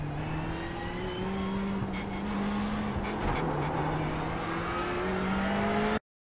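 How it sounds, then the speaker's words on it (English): A race car in the iRacing sim game accelerates up through the gears on the Nürburgring Nordschleife, its engine droning steadily with rising and dropping pitch at the shifts, loud and continuous before an abrupt cut. "we're accelerating up to second gear to take the turn"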